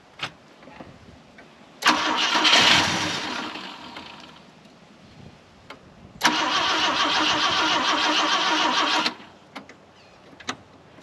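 A sat-for-20-years 50-year-old Volvo 164e, primed with starter spray, cranks and fires in two loud bursts, each several seconds long, with quiet pauses and small clicks between.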